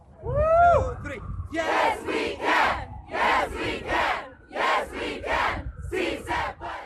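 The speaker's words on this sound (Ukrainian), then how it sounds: "Вигукує англійською та іспанською ця група етнічних мексиканців з Каліфорнії" A group of ethnic Mexicans from California chants a slogan in rhythmic bursts, repeated three-beat shouts separated by short pauses. One drawn-out call opens the chant.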